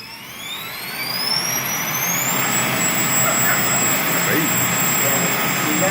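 Drone motors spin up to about half power with a rising high-pitched whine climbing over steady loud rushing noise, held close and continuous once at speed.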